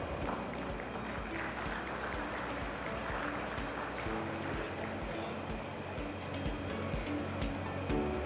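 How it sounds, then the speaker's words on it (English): Audience applause at a business partnership summit in Visakhapatnam, a fairly faint, steady patter of clapping from a large hall, with a low hum and music-like tones running underneath. "Let's have a big round of applause."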